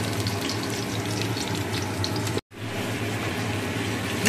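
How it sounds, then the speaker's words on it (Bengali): Onions lightly frying in a pan with garam masala and a little sugar, a steady dense sizzle running continuously with a brief dropout midway, no talking. "পেঁয়াজ দিয়ে পেঁয়াজগুলো হালকা করে ভেজে নিচ্ছি।"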